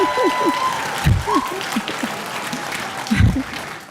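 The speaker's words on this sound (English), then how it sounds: "you can see all his staff have stood up to cheer their dean" Staff standing to applaud and cheer their faculty dean at a university staff performance awards ceremony in Nairobi, a sustained round of clapping with a voice talking over it.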